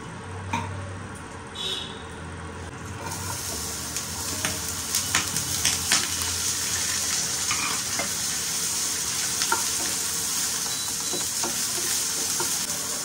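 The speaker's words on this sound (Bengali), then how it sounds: "তো ভাবলাম যে একটু হাফ শুকনো লঙ্কা তেলের উপরে দিই" Half-dried chillies fry in hot oil with a continuous close sizzle and crackle, punctuated by scattered clicks of stirring.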